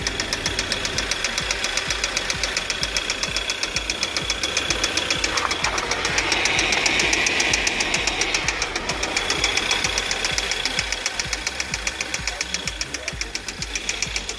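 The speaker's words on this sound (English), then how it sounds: "you can hear a significant tick, and it's pretty bad." An Audi A4 B7 engine with a bad oil pump idling with a rapid, steady ticking knock throughout, close and fairly loud, with a slight stutter in the running.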